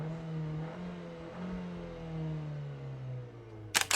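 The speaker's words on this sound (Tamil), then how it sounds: "வண்டியை ஸ்டார்ட் பண்ணுறேன். நீங்கள் பார்க்குறீங்க, ரவ் பண்ணுறேன்." A new Renault Duster's engine idles and rises in pitch as it is revved, a smooth steady drone with a brief sharp clatter near the end.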